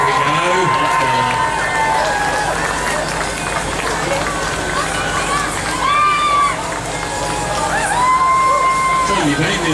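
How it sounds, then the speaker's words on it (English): Crowd at the finish of the Rottnest Channel Swim cheering and whooping for arriving swimmers, a loud continuous babble of voices with shouts rising above it. "There's a big cheer."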